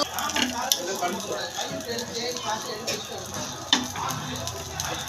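A dosa roast crackles and sizzles on a hot pan, giving a steady frying hiss with light scraping taps, while voices talk over it.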